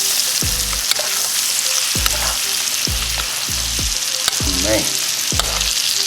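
Salmon steak frying in butter in a pan gives a steady, loud sizzle and crackle throughout, with a few dull clinks and stirring sounds, and someone speaks briefly over it.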